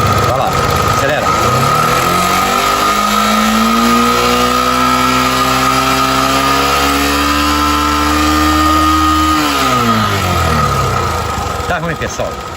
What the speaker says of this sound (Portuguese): Liga pra gente a moto aí.